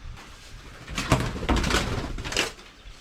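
A pigeon coos in a few soft, throaty bursts inside an old truck in a junkyard, the calls close and muffled with a faint rustle between.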